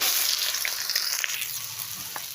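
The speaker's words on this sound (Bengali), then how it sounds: "লঙ্কা একটু কালো জিরা ভালো করে ভেজে নিই এবার কচুগুলো দিয়ে দিচ্ছি" Taro pieces sizzle steadily in hot oil with chili and black cumin, a continuous close frying hiss with faint crackles and no talking.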